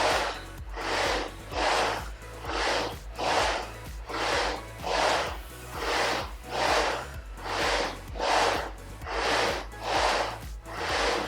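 Rhythmic heavy breaths during a Pilates jumpboard workout on a reformer, about a dozen loud, close exhales in an even steady cycle, with no talk.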